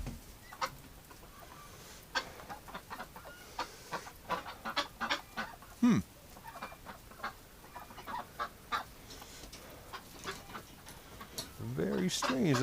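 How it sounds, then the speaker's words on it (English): Ducks cluck and call inside a barn in winter, with short scattered quacks and honks close by, a denser burst of calls near the end, and a person talking over them. "we've got a bunch of ducks in here"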